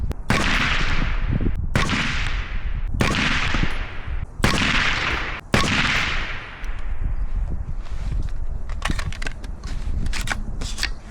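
Suppressed rifle, an Otter Creek Labs Infinity suppressor on a Surefire hub, firing a group at a 100 meter target, five loud evenly spaced shots followed by fainter distant shots and clicks, no talking.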